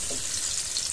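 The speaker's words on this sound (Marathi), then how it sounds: "लसणाची फोडणी दिलेली आहे" Garlic sizzles hard in hot oil in a kadhai over a wood-fired chulha, a short burst of steady, bright crackling and hiss, close and alone.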